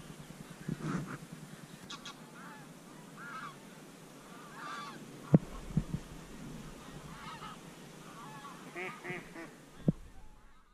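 Greylag geese honk in a foggy marsh, scattered nasal calls near and far over a quiet background, with a few sharp knocks and short bursts of clustered honking toward the end.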